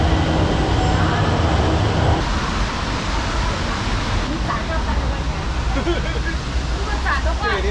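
Passenger train running above ground in China, a steady loud rumble and rolling hum of the carriage filling the whole stretch, with faint background chatter.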